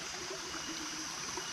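A river stream flows steadily in a village setting, making a continuous, even rushing wash of water, moderately close, with no voices.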